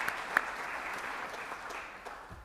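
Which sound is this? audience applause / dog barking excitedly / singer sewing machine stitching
audience applause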